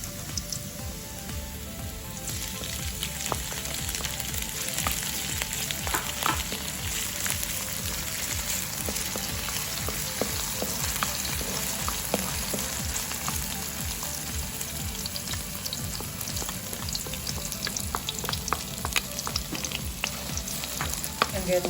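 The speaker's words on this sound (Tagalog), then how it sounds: "So first of all, we're going to saute the garlic, and then followed by the" Garlic and onion sauteing in a hot pan for Filipino laing, a steady, dense sizzle and crackle of frying that runs unbroken throughout, with occasional faint stirring scrapes and no talking.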